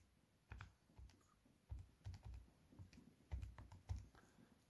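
Someone types an algebraic expression on a computer keyboard, giving quiet, irregular clusters of close key clicks and thumps, with no talking.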